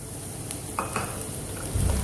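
Chopped garlic and onion sautéing in oil heated to about 120–150 °C, a steady low hiss with a few soft stirring scrapes and a louder burst of sizzle near the end.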